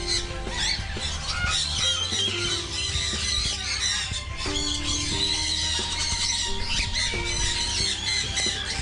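Blue-headed pionus parrots squawk repeatedly in an aviary, a dense overlapping chorus of harsh, close calls with shrill squeals that keeps going throughout.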